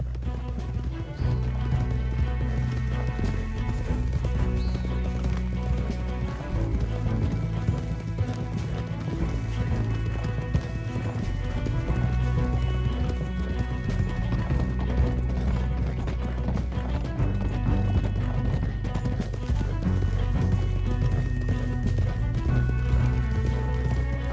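Horse hooves clip-clop in the Red Dead Redemption 2 video game, a steady rhythmic clatter running the whole way under a loud, dense wash of music and ambience.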